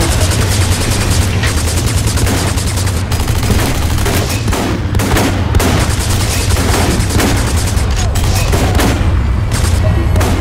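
Continuous heavy weapon fire in the sci-fi shooter Section 8: Prejudice, with a powered-armor soldier unloading an alternate weapon in a loud, unbroken rattle of rapid shots and booming impacts.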